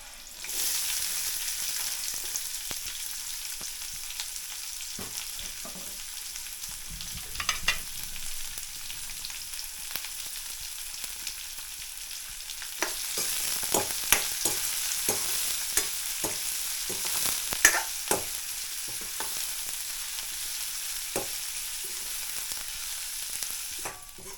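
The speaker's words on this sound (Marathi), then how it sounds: "आता कांदा टाकते." Onion fries in a pan with garlic and chili in a Marathi home kitchen, a steady close sizzle punctuated by clinks and scrapes of a spatula stirring throughout, no voices.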